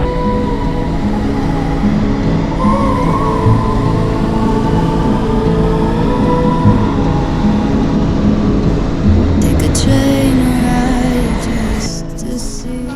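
London Underground train running near Euston Square and Great Portland Street, a loud continuous rumble and rattle of wheels on track with squealing tones, steady throughout and then shifting slightly near the end.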